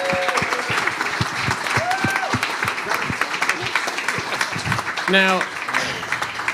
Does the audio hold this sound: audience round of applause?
yes